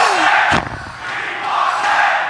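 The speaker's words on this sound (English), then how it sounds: "of course, the crowd is cheering" A loud crowd roars and cheers at a 2012 GSTL Season 1 Final StarCraft tournament, holding steady with a brief dip partway through.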